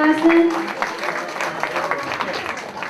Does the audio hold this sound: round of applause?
yes